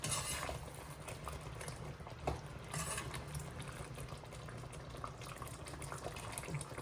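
Green chicken curry gravy bubbling in a pot, a steady close simmering hiss and burble with a few soft clinks from a spoon, continuous throughout with no talking.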